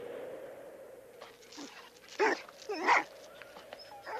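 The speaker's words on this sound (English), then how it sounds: "A migrating bear first encounters chained sled dogs, easy prey for the intruder." Chained sled dogs in the Arctic let out two short, sharp barks a moment apart over a steady low background rumble.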